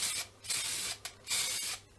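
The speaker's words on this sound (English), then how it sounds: "and we're just going to spray this area here." Black spray paint hisses from an aerosol can onto an electric guitar body in three close, fairly loud bursts with short pauses between them.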